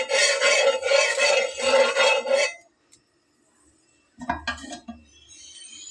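A metal spatula rasps and scrapes as dal and spinach batter is spread thin across a hot frying pan, a steady scraping burst for about two seconds, then a pause before a few shorter clinking scrapes.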